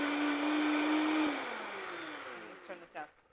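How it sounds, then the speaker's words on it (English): A blender runs on high, mixing an oil-free hemp dressing with a steady whirring roar, then its motor winds down in pitch and fades, ending in a couple of soft knocks. "So got it blending. I'm going to just put it up on high because we want to mix it really nice."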